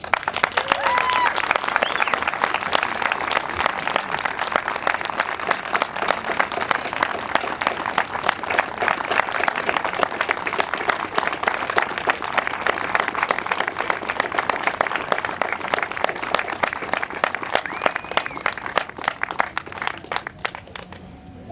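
An audience at the On to Ottawa Trek 75th anniversary event in 2010 gives dense, sustained applause welcoming speaker Ken Hoggarth, loud clapping from many hands that carries on for about twenty seconds before slowly thinning.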